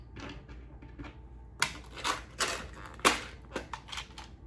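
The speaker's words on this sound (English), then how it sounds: "Sorry for the noise from my little dice." Faint clicking and clattering of small dice tumbling and knocking together, a quick burst of irregular taps close by.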